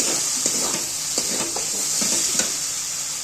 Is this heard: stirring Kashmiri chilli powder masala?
yes